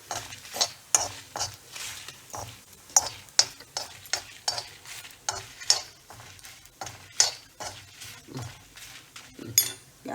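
Roasted sesame seeds stirred in a pan with the heat switched off, a spoon scraping and clinking against metal in steady strokes while the seeds rustle and faintly sizzle, fairly quiet with no talking.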